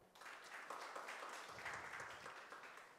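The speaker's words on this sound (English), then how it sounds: "a huge round of applause for Innocent and Faraja" Audience applause for two presenters at an innovation challenge event, a steady wash of clapping heard fairly faint and distant throughout.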